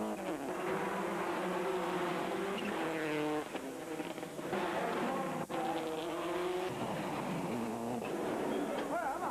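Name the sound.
Subaru rally car racing at high revs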